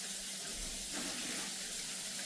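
A kitchen tap runs cold water for rinsing broccoli, giving a steady, even hiss of flowing water that is faint but continuous throughout.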